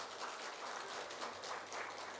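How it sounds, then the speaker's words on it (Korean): A church congregation claps together during a Sunday worship service to welcome a newly married couple, a steady soft wash of applause from a large room throughout. "우리 같이 박수로 환영하도록 하겠습니다"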